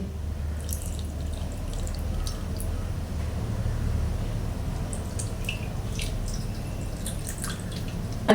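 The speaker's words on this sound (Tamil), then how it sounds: "அப்படியே நாங்கள் புளிக்கரைசில் விடுவோம்" Tamarind extract is poured into a curry, a continuous soft trickle of liquid with scattered light drips and splashes, steady and close, with no voices.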